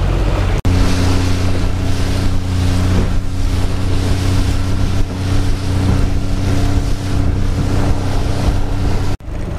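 A small boat motors across open water, its engine droning loud and steady under heavy wind buffeting and the slap of the hull bouncing on waves.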